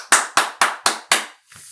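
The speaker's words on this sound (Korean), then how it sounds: "자, 이렇게 박수를 드렸지만" Five sharp, evenly spaced hand claps ring out close and loud, each with a short decay, followed by a faint trailing sound.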